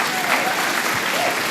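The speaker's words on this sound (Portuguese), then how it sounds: "Dá um aplauso ao Senhor, dá uma glória a Deus." Church congregation claps together in praise, a brief burst of loud, dense applause filling the room.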